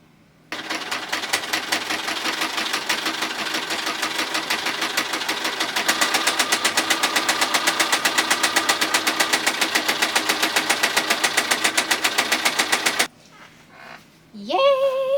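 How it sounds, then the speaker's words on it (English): A sewing machine stitches pajama fabric in one long steady run, a loud close mechanical whir with fast even needle clatter that stops sharply near the end, followed by brief rustling. "Stretch and sew."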